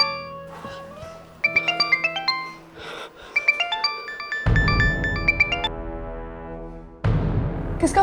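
A phone ringtone plays a bright repeating melodic pattern, loud and close, several phrases in succession with brief pauses between them.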